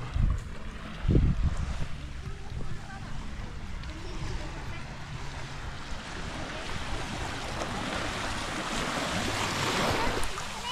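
Sea waves wash in at Tali Beach as a continuous broad surf roar mixed with wind buffeting the microphone, with a few loud knocks at the start.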